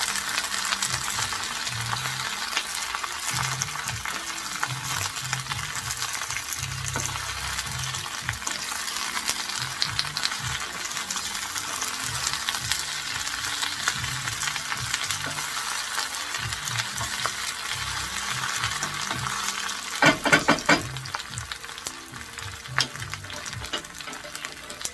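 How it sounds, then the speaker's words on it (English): Asparagus and mushrooms cook in a pan while being stirred for a quiche filling, producing a continuous frying sizzle with soft scraping stir strokes, close and steady, and a brief clatter of movement around the twentieth second. "Stir it around."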